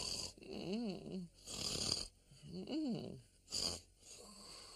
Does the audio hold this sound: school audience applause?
no